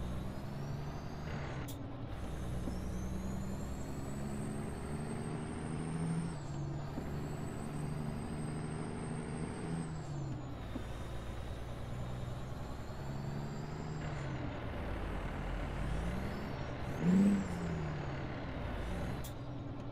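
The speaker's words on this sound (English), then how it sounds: "I am double clutching" A truck's engine drones close by while the driver double clutches, its revs rising and falling in repeated steps through gear changes, with a short hiss late on.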